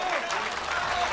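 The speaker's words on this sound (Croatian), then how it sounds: "Vidimo sada i čujemo, naravno, podršku publike." The crowd at a professional boxing event in Herceg Novi applauds and cheers in a steady, dense wash of clapping, with voices mixed in.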